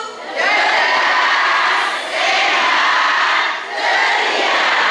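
A group of mothers at a Bunda PAUD inauguration ceremony in Jombang loudly chant a group yell in unison, rising in three sustained bursts with short dips between them, filling the room.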